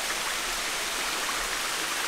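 Water from a pool runs over rocks in a steady, even rush of broadband noise, loud and unbroken, with no voices.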